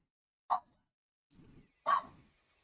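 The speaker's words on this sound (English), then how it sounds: "My dog is barking in case you can hear her." A pet dog barks indoors, giving three sharp separate barks with short pauses between them, fairly close and alone against a quiet background.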